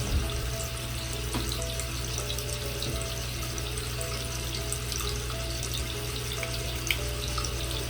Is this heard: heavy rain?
no